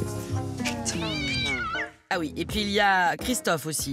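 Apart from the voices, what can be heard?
cat meowing, resembles a Chartreux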